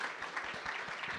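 An audience at a panel on inclusion and diversity in sport breaks into brief applause, a short burst of many hands clapping at moderate loudness with no speech over it.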